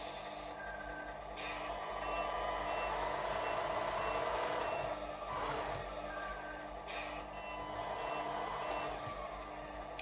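Tamiya MFC-01 sound unit in an RC truck sounding its reversing alarm, a string of regular high beeps over a steady diesel-truck engine rumble, with occasional air-brake-like hisses.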